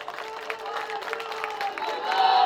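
A crowd applauds and murmurs at an outdoor political rally in Jogeshwari, Gulshan Nagar, with steady clapping that swells toward the end.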